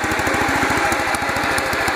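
A Toro Planet Jr garden tractor engine with homemade Briggs & Stratton valves runs at a fast, even idle, a loud close pulsing chug with clattering mechanical noise and no voices.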